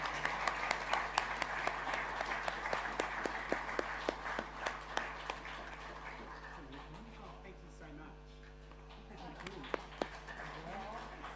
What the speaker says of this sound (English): And we can applaud them again because they're wonderful.